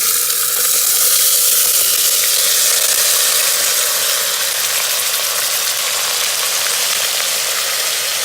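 Chopped potatoes fry in oil in an Instant Pot, giving a loud, continuous hiss and crackle that stays even throughout with no pauses or voices.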